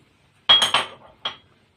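A spoon stirs semolina and flour through melted ghee in a pan, giving a few quick metallic clinks and scrapes close by, with no talking.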